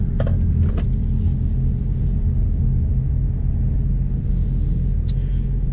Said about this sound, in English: we're gonna go ahead and go for a drive in this new 2023 Toyota Prius